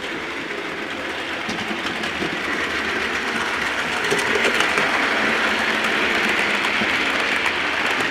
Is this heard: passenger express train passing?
yes